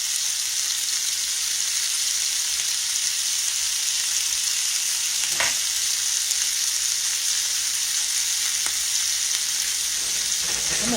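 Onions fry in a pan with a steady, loud sizzle that carries on throughout, broken by a few soft scraping stirs.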